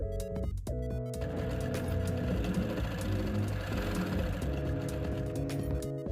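A sewing machine runs fast and steady, stitching a denim pencil case in a continuous close whirring chatter after a brief start.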